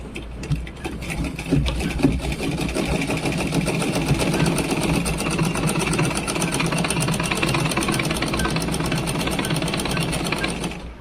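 A sewing machine runs steadily for about eleven seconds, stitching a fall onto the inner edge of a saree border. It gives a continuous, fast, even mechanical rattle at close range, with no talk over it.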